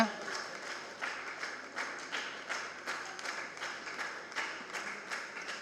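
An audience at an association's anniversary ceremony claps in a steady, even rhythm. The applause is fairly faint and evenly paced throughout.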